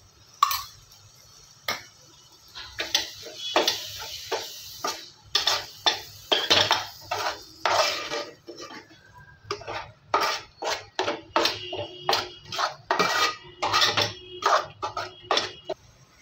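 A spoon scrapes and clinks in a cooking pan, stirring a ground paste of ginger, garlic and coriander for a dhaba-style egg masala curry. The irregular metallic scrapes and knocks repeat steadily for about sixteen seconds, close up, with no voices.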